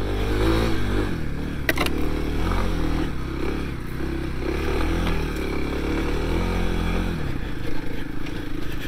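A 2021 Kawasaki KLX300s dirt bike held at high revs in first gear, its engine droning loud and steady close to the microphone with small shifts in pitch and light rattles over damp ground.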